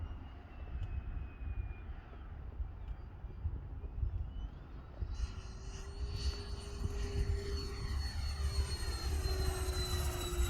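A 95-inch radio-controlled F/A-18C model jet flies overhead with a steady turbine whine, rising in pitch and loudness as it passes, over continuous outdoor wind rumble.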